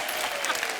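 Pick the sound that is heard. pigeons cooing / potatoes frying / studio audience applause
studio audience applause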